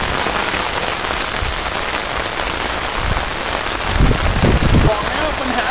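Steady rain falls on and around an old sand-pit fishing pond during a day-long downpour, a constant close hiss of drops filling the scene with no break or change in intensity.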